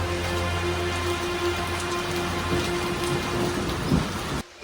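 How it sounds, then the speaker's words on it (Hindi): Steady rain falls in Shimla, a dense, constant hiss with a low rumble beneath it, loud and close, with no one speaking. "शिमला में अभी चल रही है बारिश"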